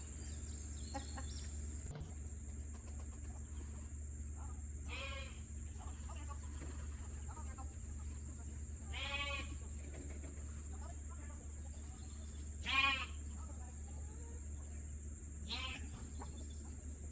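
Goats on a farm, including a billy goat, bleat in short separate calls spaced several seconds apart. The calls are faint and distant over a steady low background hum, with occasional fowl noises.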